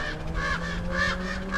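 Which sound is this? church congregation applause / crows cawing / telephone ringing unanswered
crows cawing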